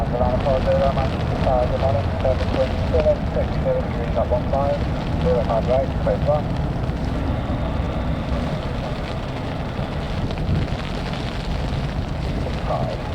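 An airliner on a rain-soaked runway at Manchester Airport during Storm Claudia, a loud, continuous engine roar and spray hiss filling the scene while a person talks over it.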